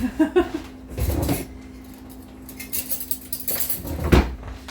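A fork scrapes and clinks against a bowl while stirring milk into flour for vegan no-oil biscuits, short bursts of tapping and scraping separated by quiet pauses, close and moderately loud.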